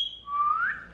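A single short whistle, a brief high note followed by a rising, sliding tone, clear and close.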